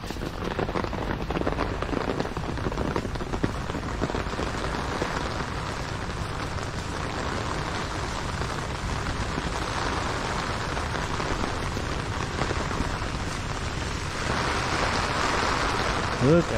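Rain falls steadily on a village in Bangladesh, a constant dense patter on wet ground and surfaces that continues without pause, with occasional faint voices beneath it.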